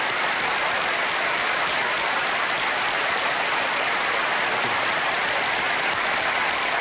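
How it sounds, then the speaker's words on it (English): A television studio audience for All in the Family gives loud, dense, unbroken applause at a 200th-episode celebration, a continuous wash of clapping with no gaps. "I really just wanted to applaud you."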